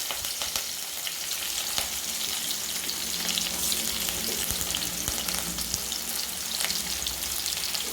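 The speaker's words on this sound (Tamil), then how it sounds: "இந்த வெங்காயம் நல்லா வதங்கட்டும்" Onions and curry leaves fry in a pan with oil for a Tamil-style brinjal fry, giving a steady, close, loud sizzle with occasional stirring scrapes and no voices.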